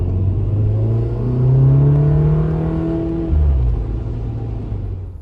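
A VW MK7 Golf R fitted with an Integrated Engineering intake pulls away from a stop on wet pavement, its engine note rising steadily in a loud, continuous rumble with a brief shift-like dip before climbing again.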